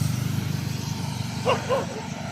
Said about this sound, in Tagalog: Ang daming aso dito, Brad.